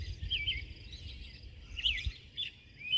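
Outdoors before dawn a bird repeats high chirping calls in short bursts, fairly clear over a low rumbling background, with no talking.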